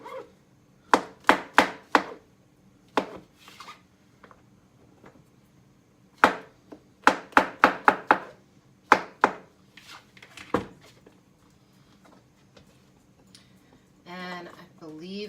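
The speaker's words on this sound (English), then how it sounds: "Just cut them in half and then do little slices so they're about nice bite-sized pieces" A knife slicing tofu into bite-sized pieces on a cutting board, sharp knocking taps in quick clusters with pauses between, close by, and a voice talking near the end.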